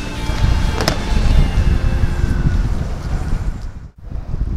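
Strong wind on a fishing pier at Mount Pleasant in March buffets the microphone in a loud, steady roar, with a brief dip near the end.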